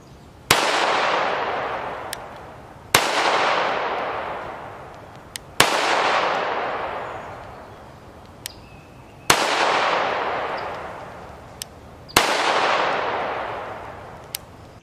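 A Beretta Model 80X Cheetah pistol fires Norma NDX non-expanding defensive ammunition in five loud, sharp shots spaced two to three seconds apart, each trailing a long echoing decay, close by with no talking.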